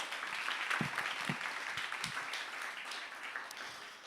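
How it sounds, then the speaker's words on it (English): Audience applause at a women's innovation event, a modest crowd clapping at moderate level that gradually thins out. "may we please give them a round of applause"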